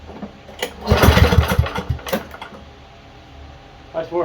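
An Ariens lawn mower engine, just got running after fuel was drawn through the carburetor, sputters loudly in uneven bursts for about a second and a half, then fades to a low idle before picking up again at the end.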